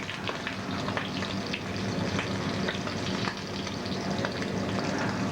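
Shrimp browning in a generous amount of oil in a pan, a dense, continuous close sizzle and crackle that holds steady throughout with no voices.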